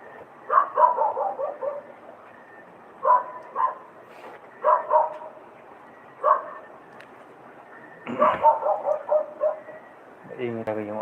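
A dog barks in several bursts of quick yips separated by pauses, fairly close and loud, with a longer run of barking near the end.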